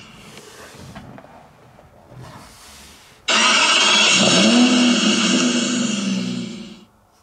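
Car engine in an iPad car driving game: faint menu noises, then an abrupt loud, steady engine drone that hums for several seconds before cutting off.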